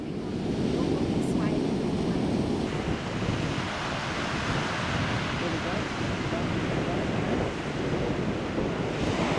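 Surf rolls onto the main beach of a cold-water shore visited on a South America and Antarctic cruise, with strong wind buffeting the microphone, making a steady, loud, unbroken roar throughout.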